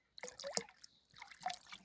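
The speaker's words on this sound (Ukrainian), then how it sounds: "Беру 12-літрове відро, наливаю сюди 100 грамів оцту" Vinegar, about 100 grams, poured into an empty 12-litre bucket, with two short splashing, trickling bursts separated by a brief pause.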